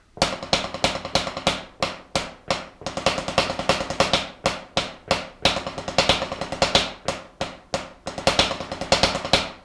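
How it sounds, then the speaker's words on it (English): Snare drum played as an inverted six-stroke roll, close and loud: a steady run of sharp, evenly spaced strokes with accented groupings repeating throughout, with no voices. "we'll call it the inverted 6-stroke roll. Number 8 is going to go like this."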